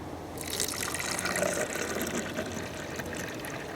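Liquid pours steadily into a garden bee feeder in a continuous splashing stream, close and moderately loud, with no talking.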